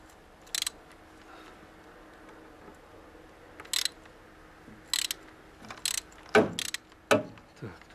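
A ratchet wrench with a 13 mm socket works loose bolts on a Moskvich 2140, giving several short, sharp clicking bursts close by, spaced out at first and then coming quicker, over quiet background noise.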